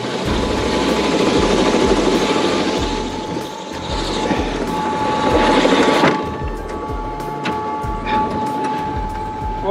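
Loud, steady helicopter rotor thump with a whining engine, close by on a tour flight near Mount Everest, a rhythmic low chop running throughout with a brief dip midway.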